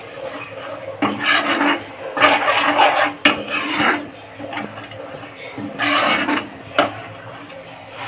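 A spoon stirs garam masala into masala frying in a pan, scraping and rasping against the metal in repeated strokes, close and fairly loud, with bursts of sizzle between scrapes.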